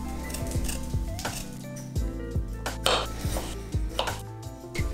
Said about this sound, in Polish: to ja obiorę i pokroję kiwi